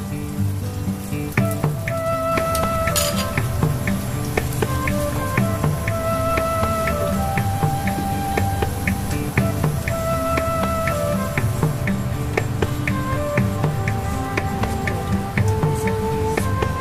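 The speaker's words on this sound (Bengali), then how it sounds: "ফুপু এখন পিঠা ভাজার জন্য তেল দিয়ে দিয়েছে।" Taler pitha, palm-and-coconut cakes, frying in hot oil with a steady, dense sizzle and scattered crackling pops, close and continuous without any talk.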